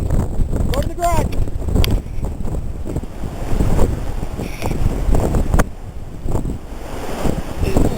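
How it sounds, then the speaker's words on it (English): A strong wind storm in Yakima with gusts near 76 mph roars and buffets the microphone in a loud, continuous rush, while voices call out briefly beneath it. "Here comes the wind."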